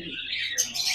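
A green ringneck parakeet breeder pair sits in a bird market, giving short, bright chirping calls against a busy background.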